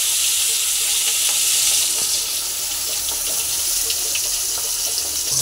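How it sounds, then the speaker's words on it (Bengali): A rohu fish head fries in hot oil in a home kitchen, a steady, dense sizzle and crackle lasting throughout, loud and close with no voices. "তো আমি একটা রুই মাছের মাথা আমি ভেজে নেব"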